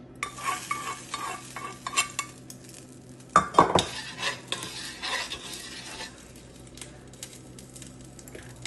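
Garlic, onion and dried chillies fried in oil with a spoon stirring and scraping against the pan in uneven bursts, a louder clatter near the middle, then a softer steady sizzle.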